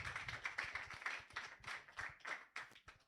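An audience clapping after a capstone personal presentation, irregular claps that come through quiet and somewhat distant, rising and falling in uneven bursts.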